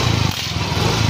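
Yamaha Mio i 125 scooter engine running steadily after an ignition coil wiring repair, a close, even low putter with a faint rev dip midway, with no voices.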